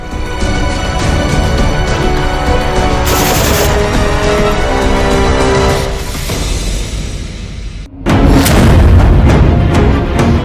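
Heavy blasts from Israeli missile strikes on Gaza roll out as a dense, continuous roar of booms and crackling impacts, loud and sustained, with a brief drop before an even louder surge.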